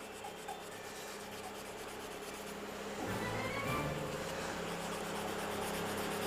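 Sandpaper rubs over a knife handle finished with epoxy resin and CA glue, a close, continuous raspy scrubbing that grows a little louder and busier partway through.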